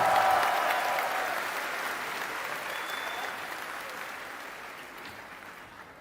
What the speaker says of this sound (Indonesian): Boleh dong kasih tepuk tangan yang meriah buat Zia.